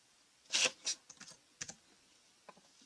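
Quiet keyboard typing, a short run of soft, irregular key clicks with pauses between them, close by in a still room.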